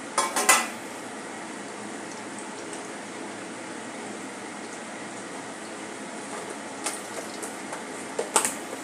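Cornflour-coated potato slices drop into an airtight container: a few clattering knocks and scrapes at the start and again near the end, with a steady quiet kitchen hiss between.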